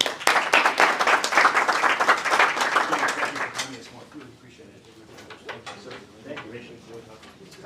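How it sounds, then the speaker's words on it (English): A crowd claps loudly for a few seconds, then the applause thins out while a voice speaks over the fading clapping. "one more round of applause for the speakers and for Tom"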